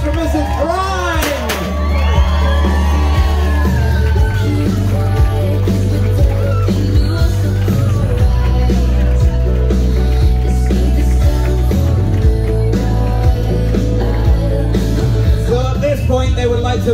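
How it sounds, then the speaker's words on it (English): A wedding crowd cheers, whoops and shouts loudly and continuously after a confetti cannon goes off at a first-dance celebration, with a steady low hum underneath. "a massive round of applause for the new Mr. and Mrs. Prime!"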